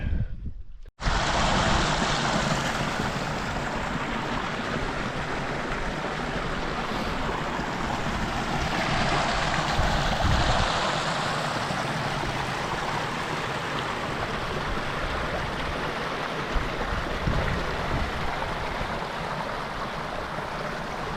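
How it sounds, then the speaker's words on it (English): Mountain streams flow along a Scottish pass, a broad continuous rushing wash of water that holds steady throughout, with some wind buffeting on the microphone and no voices. "Some nice streams in the background"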